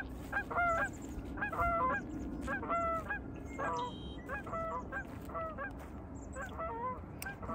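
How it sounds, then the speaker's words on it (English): Canada geese honk repeatedly in a lively, overlapping chorus of nasal calls, fairly close, over a steady low background rumble with no talking. "We've got the Canadian goose."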